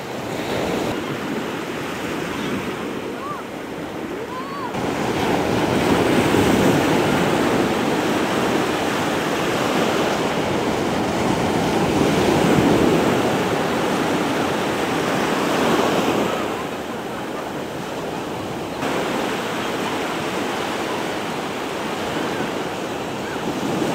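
Steady wash of sea waves and wind around small fishing boats off Quang Tri after a big storm, a broad continuous roar that swells louder in the middle and eases again, with no voices.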